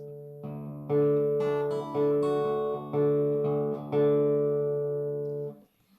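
Plucked fingerstyle guitar bass notes ring out one at a time in a slow, steady pattern, low and sparse, each left to sustain before the next.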